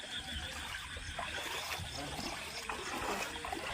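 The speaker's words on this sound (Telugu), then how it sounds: "చూడగా ఇంటి ముందర నీళ్ళు కూడా వస్తున్నాయి" Rainwater runs past the houses in Rajoli, where it collects in the handloom weavers' loom pits, making a steady trickling, splashing wash that continues throughout at moderate level.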